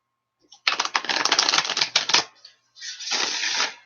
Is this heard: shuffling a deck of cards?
yes